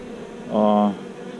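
A bee swarm in March gives a brief, steady buzzing drone with a harmonic hum that swells and then fades, heard alone over a faint background.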